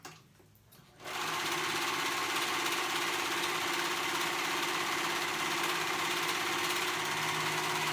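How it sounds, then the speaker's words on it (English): A sewing machine runs steadily after about a second of quiet, stitching a pocket onto a pair of active shorts with a loud, continuous motor whir and no talking. "we're gonna sew straight down. We're gonna sew that together to put that pocket on"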